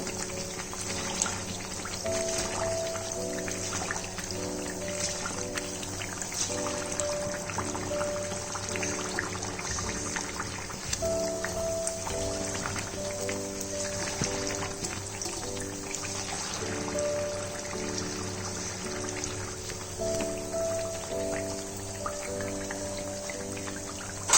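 Semolina malpoa frying in oil, a steady close bubbling crackle that runs on without a break for over twenty seconds.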